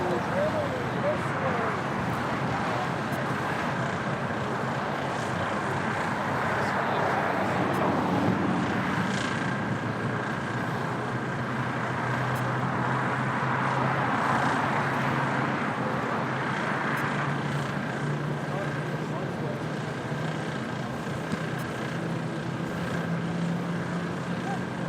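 An Airbus A320 airliner in a special livery takes off from LAX bound for Memphis, its distant jet roar swelling and fading in a steady rumble while a person keeps talking over it.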